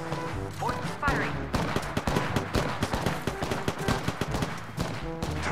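Rapid bursts of automatic gunfire crackle through a match of the Apex Legends video game, dense overlapping shots with clanks and game effects at close range, continuous and busy over the short stretch.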